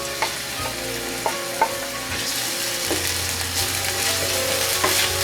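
Ginger and garlic frying in a pan give a continuous bright sizzle with scattered utensil clicks and scrapes, a low background hum underneath, no talking.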